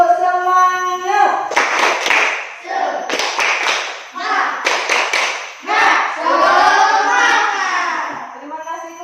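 Children clapping the Indonesian 'tepuk semangat' spirit cheer in a school classroom, bursts of hand claps in patterned groups mixed with young voices chanting loudly and close.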